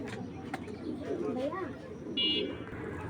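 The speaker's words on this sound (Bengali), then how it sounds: "অরিজিনাল হারিকেন কবুতর" A Hurricane pigeon, a big-sized breed, coos softly in a short rising and falling phrase, fairly faint amid background chatter and a brief high electronic tone.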